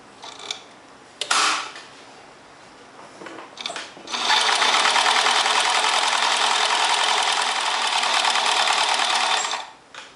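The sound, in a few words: sewing machine stitching dress fabric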